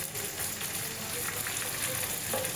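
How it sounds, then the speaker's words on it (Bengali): Green banana pieces fry in oil in a close, continuous sizzle while being stirred and turned in the pan, steady and fairly loud throughout. "আমি এখন কলাটাকে উলট পালট করে নেড়ে চেড়ে ভেজে নেব"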